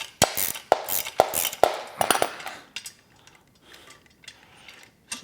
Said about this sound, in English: So this pulley, bottom pulley comes out.